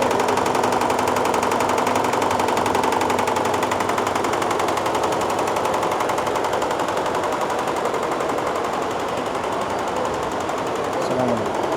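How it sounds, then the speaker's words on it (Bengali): A Platinum brand textile machine runs at a textile fair in Bangladesh, giving a loud, steady rapid mechanical chatter that continues without a break, with a faint hum of the hall underneath. "এদিকে হচ্ছে প্লাটিনাম ব্র্যান্ডের আরও একটা মেশিন দেখেন কত সুন্দর কাজ হচ্ছে"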